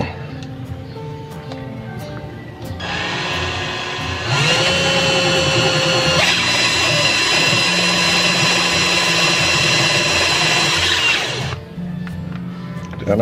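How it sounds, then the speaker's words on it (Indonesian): A close electric drill spins up and whines steadily for about eight seconds, then winds down; a brief faint voice before it starts. "Langsung aja kita pakai bor"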